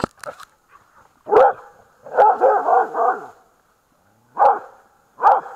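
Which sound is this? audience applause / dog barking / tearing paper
dog barking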